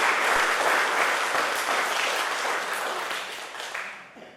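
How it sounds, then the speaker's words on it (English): A local historical society audience gives a full, steady round of applause for a library's 150th anniversary, heard close and loud throughout and tapering off at the end. "And one more round of applause for the Howland Center, the Howland Library"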